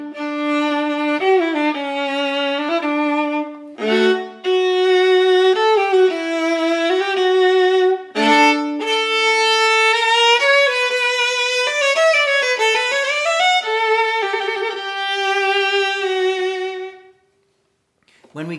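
Solo viola playing the opening of the Stamitz Viola Concerto, a vibrant bowed melody with sustained notes and quick runs, close and full, with a brief pause near the start before the line continues and fades at the end.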